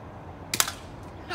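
A pump gun fires at a Mountain Dew soda can outdoors on wet grass: one short, sharp crack near the middle, followed by a fainter brief snap, with quiet surroundings in between.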